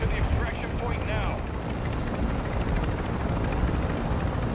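A video-game helicopter drones loudly and continuously with a steady rotor roar, while a voice speaks briefly over it near the start.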